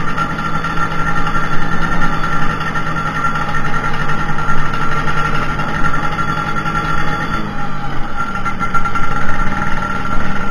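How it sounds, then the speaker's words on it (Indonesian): A Vespa Sprint scooter engine runs steadily up close while riding, a constant buzzing drone with a slight shift in pitch partway through. "Naik Vespa."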